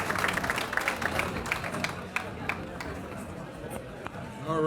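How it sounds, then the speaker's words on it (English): An audience at a Boy Scouts distinguished citizens ceremony gives the scouts a round of applause, brisk clapping early that thins out while voices talk over it. "How about a round of applause for our scouts?"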